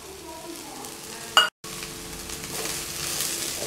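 Boiled white chickpeas and grated coconut are stirred in a pan for chana sundal, a soft sizzle with a spoon scraping through, broken by one sharp knock and a brief silence.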